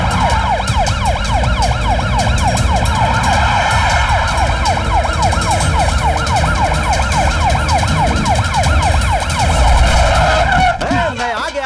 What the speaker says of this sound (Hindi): तू ऐसे ही सायरन डाल के घूमता है